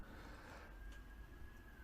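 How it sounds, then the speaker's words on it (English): A faint, distant police siren holds a steady wailing tone, drifting slightly lower, beneath a low background rumble. "now you might be able to hear a police siren in the background"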